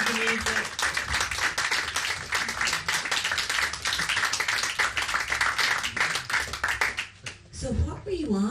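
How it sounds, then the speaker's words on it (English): Loud, sustained applause from the audience at an Exploding Cinema screening night in Margate, dense clapping with some cheering, thinning out at the end as voices come in. "Give him a big round of applause."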